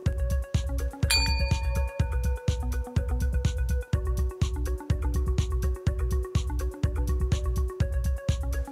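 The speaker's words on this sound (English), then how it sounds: "And then you activate the smiley bell and you summon the Guitar Butler." A smiley bell chimes with a bright high ding over repeated rhythmic plucked guitar-like notes and steady low thumps, a loud, busy musical texture throughout with no talking.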